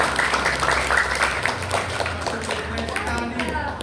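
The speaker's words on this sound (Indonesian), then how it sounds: "Tepuk tangan yang meriah untuk Kak Mega." Audience clapping at a children's storytelling competition, steady and fairly loud throughout, with voices and crowd noise mixed in under the applause.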